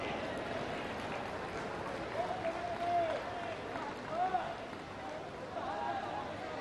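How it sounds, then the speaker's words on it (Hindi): Crowd applause at a government ceremony in Varanasi with Prime Minister Narendra Modi, where certificates are handed out: a continuous wash of distant clapping under an amplified announcer's voice. "तालियां बजती रहनी चाहिए।"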